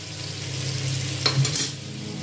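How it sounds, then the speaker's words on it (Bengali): Diced new potatoes frying in a pan with turmeric and salt, a steady close sizzle with a couple of brief stirring scrapes near the end. "প্রথমে আমি এই আলুগুলোকে একটু হলুদ নুন দিয়ে ভেজে নেব।"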